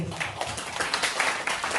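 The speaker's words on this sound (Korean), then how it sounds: "하나님께 영광의 박수." Congregation clapping during an online children's worship service, a dense steady patter of many hands filling the short stretch with no clear voice over it.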